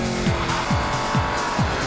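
Family cars are driven hard around the Silverstone circuit, with a steady close engine roar and four evenly spaced tire squeals.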